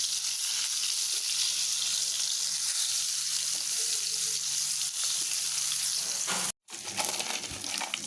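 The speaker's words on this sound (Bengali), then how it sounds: "এই বেগুনগুলো দিয়ে ভেজে নেব খাওয়ার জন্য" Eggplant pieces frying in a pan, a steady close hiss and crackle of hot oil that runs on evenly and cuts out briefly near the end before resuming.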